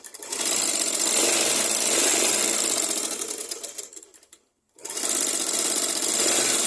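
A sewing machine stitches a seam along the fabric edge in a tailoring lesson, a loud rapid mechanical whirr that runs for about four seconds, stops briefly, then starts again.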